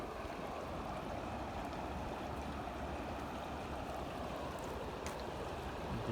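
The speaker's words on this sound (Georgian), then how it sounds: "დიდი მდინარეა და" The Tskhenistskali, a large river, flows with a steady, faint broadband rush, continuous and even throughout with no voices.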